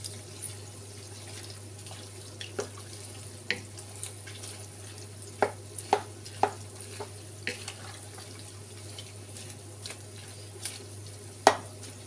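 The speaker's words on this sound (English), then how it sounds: "I'll give it a stir. See how the suets kind of stuck together." Beef suet is stirred in a pan while rendering into tallow: scattered sharp scrapes and clicks of the utensil over a quiet, low background hum, fairly close.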